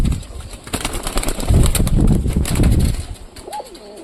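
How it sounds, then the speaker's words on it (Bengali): Pigeons coo in low, throaty bursts while the flock shuffles and flutters about as their loft gate is opened, the cooing steady and close with a brief higher call near the end. "সব কবুতরগুলো বেড়ে যাচ্ছে।"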